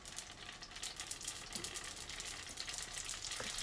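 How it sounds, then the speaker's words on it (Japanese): Vietnamese-style fresh spring rolls deep-fry in hot oil, a dense, continuous crackling sizzle close by, with no voices. "離してくっつかないように少しずつ揚げていきます"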